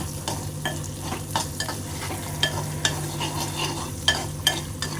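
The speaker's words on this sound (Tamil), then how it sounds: "இப்படி எண்ணெயிலே வதக்கி செஞ்சால் கொஞ்சம் நல்லா வறுபட்டுருமோ" Onions sautéing in oil for vatha kuzhambu make a close, steady sizzle broken by regular spatula scrapes and knocks against the pan, with no voices present.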